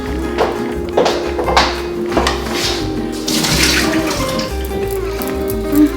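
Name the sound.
straining water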